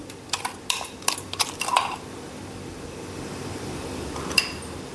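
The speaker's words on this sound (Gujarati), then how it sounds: "ક્રીમ મિક્સ થઈ જાય ત્યાં સુધી આપણે બે મિનિટ ફેટી લેવાનું" A utensil clinks and taps against a bowl in a quick burst of strikes as cream is whisked for chocolate and vanilla ice cream, then quiets, with one last faint clink near the end.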